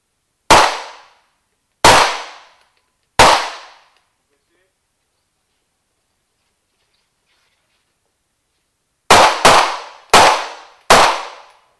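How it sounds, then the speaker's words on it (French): Live-round fire from Sig Sauer automatic pistols at a firing range, loud sharp single shots with ringing decay: three evenly spaced, a long pause, then four quicker shots in succession. "on tire à balles réelles"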